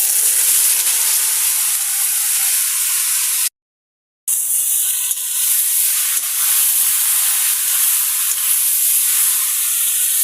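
Cauliflower florets hitting hot oil with dried chilli and panch phoron, a loud, constant sizzling hiss that drops out briefly for a moment and then resumes just as strongly, with no talking.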